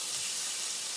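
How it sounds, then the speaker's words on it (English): Onions and ham sizzle in a non-stick pan, a steady close-up hiss with no talking. "I'm going to pour them in there and let them sizzle a little bit more"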